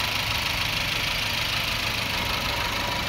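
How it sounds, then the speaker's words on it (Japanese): A Honda Civic Type R (EK9) engine idles steadily with an even, slightly ticking hum, close by and unchanging, with no voices. "エンジンかけてみました"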